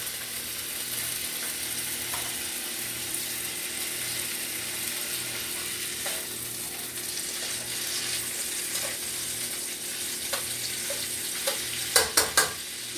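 Hot dogs fry in a pan over medium-high heat, giving a continuous close sizzle with light stirring, a few faint clicks and a short burst of sharp scraping taps near the end, no talk.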